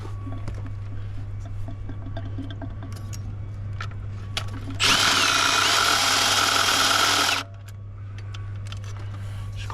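A power tool whirs loudly for about three seconds while working on a bolt of a Range Rover L405 thermostat housing, set against a steady engine-bay hum with small metallic clinks before and after.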